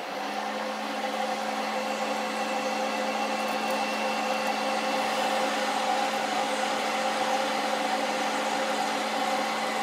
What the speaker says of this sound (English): you can kind of see that coffee starts swirling around in there as the air blows through it